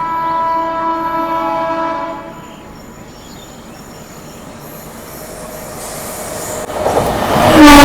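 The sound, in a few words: New Delhi–Ballia Superfast Express train with WP5 locomotive honking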